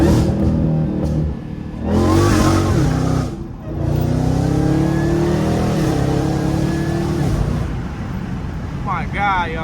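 Dodge Hellcat Redeye on a country road revving and accelerating hard, with rising harmonic engine sweeps up close, a brief lift around the middle, and a person talking over it.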